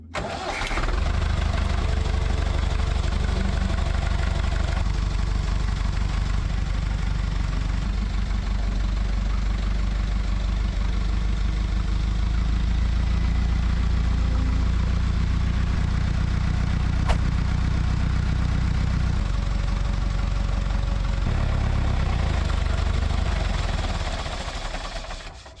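Massey Ferguson 165 4WD tractor labouring through mud in four-wheel drive without the diff lock, its diesel engine a steady loud drone throughout with no talk.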